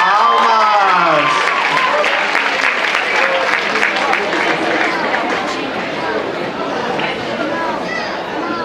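Audience applause at a diocesan dance festival award ceremony, steady and loud throughout, mixed with crowd chatter and voices talking over it.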